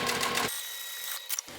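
A sewing machine back stitching fabric, a quick whirring burst that stops abruptly, followed by a brief soft mechanical click, close by.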